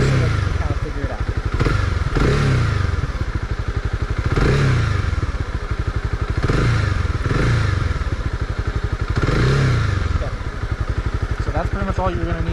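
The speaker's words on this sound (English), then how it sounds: "Go ahead and just blip the throttle." Honda CB300R single-cylinder engine idling close by with a rapid steady pulse, rising in a series of short throttle blips into louder revs, about five spaced bursts over the idle.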